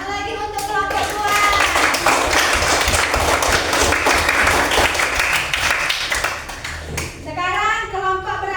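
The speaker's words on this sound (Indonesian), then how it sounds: "tepuk tangan lagi untuk kelompok 2." Students in a classroom clap for a student group, a loud, sustained burst of applause lasting several seconds, with a teacher's voice before and after it.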